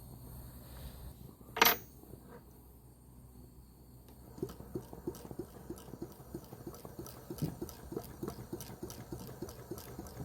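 A small flame licker, or gulper, engine starts running after a sharp click, then keeps up a fast, even ticking and puffing beat that stays fairly faint and close, with no voices.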